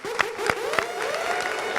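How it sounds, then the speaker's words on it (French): An audience applauds for several young women on a stage show, scattered claps with a few distinct sharp hits at first, fairly quiet and settling into a softer continuous patter. "On va les applaudir très fort, s'il vous plaît."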